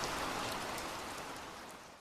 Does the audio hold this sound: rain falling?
yes